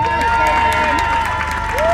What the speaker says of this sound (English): big round of applause in his first appearance, Stevie Speedman!